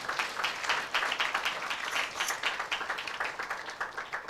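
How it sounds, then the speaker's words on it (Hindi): A church congregation clapping loudly during a Hindi sermon, fast, dense hand claps from many people, steady and close, gradually thinning slightly toward the end. "यार जोर से ताली तो बजाओ ना।"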